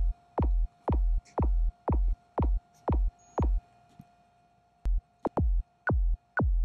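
Synthesized kick drum built in Xfer Serum, with an LFO modulating coarse pitch to add a click to the attack: eleven punchy, downward-sweeping thumps in a steady pulse, loud and alone over a faint constant hum.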